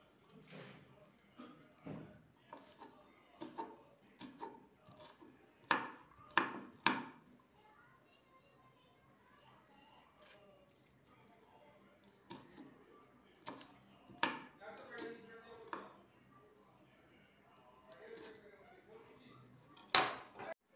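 Two green chillies being finely chopped with a knife, heard as scattered sharp taps in short bursts, fairly quiet, with gaps of near silence between them.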